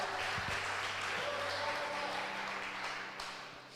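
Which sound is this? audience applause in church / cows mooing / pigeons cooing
audience applause in church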